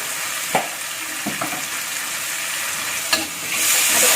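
Tuna balado being stirred in a frying pan, with a steady sizzle and a few soft scrapes of the utensil against the pan, the frying growing louder toward the end.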